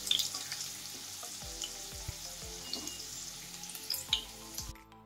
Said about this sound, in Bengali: আলুগুলো দেওয়ার পর এটাকে আমি ভালো করে লাল করে ভেজে নেব।